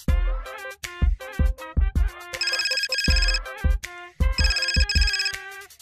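A phone ringtone plays loudly on its own, a bright electronic melody of punchy beats and ringing tones repeating in a quick pattern.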